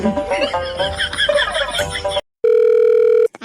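A cartoon animation's phone call placed from a laptop: a voice talks first, then a steady electronic ringing tone sounds for about a second, loud and clean.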